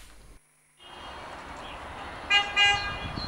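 Car horns toot twice in short bursts amid a steady wash of traffic noise on a street at night, after a brief moment of near silence.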